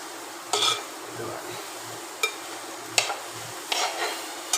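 Fried peanuts, raisins and roasted gram stirred into a mix in a pan, giving a soft background hiss and several separate spoon scrapes and taps, close and moderately loud, with no speech.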